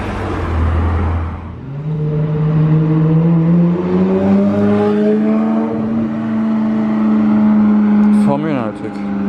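Supercars including a BMW M5, a Bentley and a Ferrari 458 cruise past on a Monaco street, one engine rising loud and close as it accelerates, with a spectator talking over the passing traffic.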